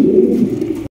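A pair of doll-like fancy show pigeons at a farm sale utter a low, continuous coo for about a second, close and clear, before it cuts off abruptly.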